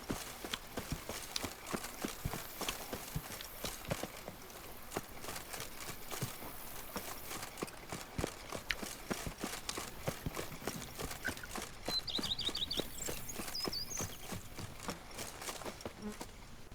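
Hooves of a horse galloping in The Witcher 3 video game, a steady rapid clip-clop rhythm running throughout over a busy game soundscape, fairly faint.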